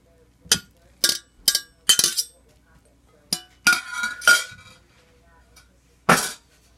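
Drained noodles for a creamy avocado pasta being tipped into a pot, giving a series of sharp clinks and clatters in uneven bursts, close and fairly loud, with a longer rattling stretch near the middle.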